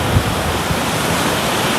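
Rough sea swell surging against the shore at Sheringham on the North Norfolk coast, a steady broadband roar of waves with a couple of heavier thumps, close and loud, mixed with wind buffeting the microphone.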